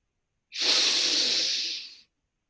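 A single deep inhalation during guided meditation, a steady airy breath about one and a half seconds long, close and clear against silence.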